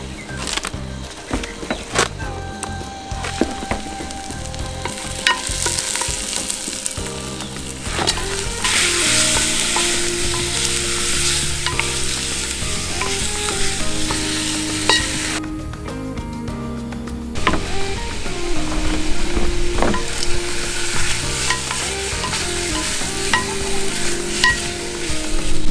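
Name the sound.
oxtail or impala meat browning in potjie pot over fire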